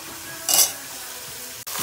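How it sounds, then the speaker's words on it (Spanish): Chopped onion and garlic sizzle steadily in a hot pan while being stirred, with a brief louder scrape of the spoon partway through and another stir at the end; no one talks. "Yo lo que le agregué fue la cebolla y el ajo."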